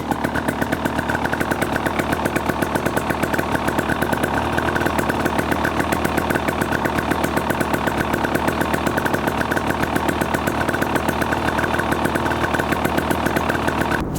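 Close and steady, a 2023 KTM 300 XC two-stroke dirt bike idles on its stock exhaust after a cold start, a rapid buzzing putter with an even pulse that holds for the whole stretch.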